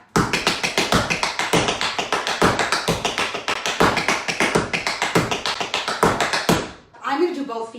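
Tap shoes strike a wooden board in a fast, sharp rhythmic pattern of many close, crisp taps, ending in a short pause followed by a quick spoken word.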